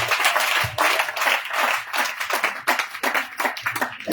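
A church congregation applauding in praise of the Lord, steady and lively clapping from many hands that rises and falls in waves over several seconds, with no talk over it.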